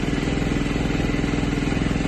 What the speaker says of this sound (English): Switch the engine on, through, start the bike, there we go